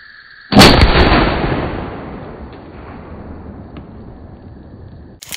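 A single loud 12 gauge shotgun blast firing a Mr. Hollowpoint slug at an outdoor range, sharp report followed by a long echoing decay.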